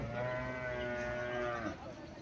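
A cow at Chauara cattle market in Comilla gives a long, loud, sustained moo close by, with faint market bustle underneath.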